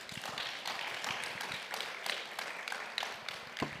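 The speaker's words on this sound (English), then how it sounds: "A round of applause." A conference audience applauds, a faint, dense patter of many hands clapping continuously at a distance.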